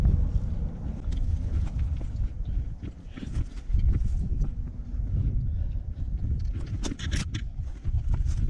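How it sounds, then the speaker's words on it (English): Wind blows and buffets a microphone on a river trip along the Mulberry River, a steady rushing roar with gusty swells throughout, mixed with clattering bumps and occasional thuds. "Man, the wind's gonna blow."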